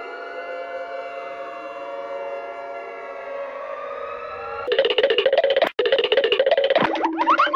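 A wailing civil-defense-style siren voiced for the Siren Head monster from a video game rises and falls steadily, then turns into harsh, pulsing, rapidly repeating electronic blasts with a brief cutout near the end.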